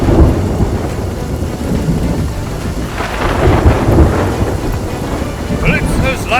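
In the video game Sea of Thieves, a thunder and lightning storm rolls with loud, deep thunder over steady heavy rain, and a cracking peak sounds around the middle.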